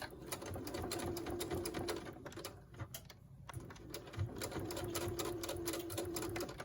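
A sewing machine runs close by at a steady pace while stitching the hemline on a reversible valance window topper, with a brief pause midway before the rapid needle rattle resumes.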